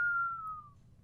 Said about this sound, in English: Every so often you can hear sort of a whistling.